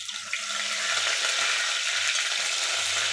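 Mustard seeds and a sprig of curry leaves sizzle and crackle in hot oil, a steady dense frying hiss that stays loud and close throughout, with no voices.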